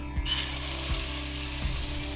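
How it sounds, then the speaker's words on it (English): Jerk chicken sizzles in a hot oiled pan, a continuous bright frying hiss with faint low scraping or stirring thumps recurring about every three-quarters of a second, close and with no talk. "So you hear that sizzle?"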